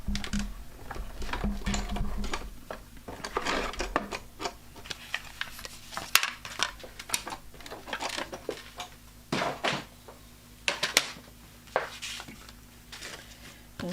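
Card stock pressed through a starburst-pattern embossing folder in a die-cutting machine, giving a series of uneven mechanical rubs, clicks and grinding rasps, fairly close, with a low hum underneath and no talking.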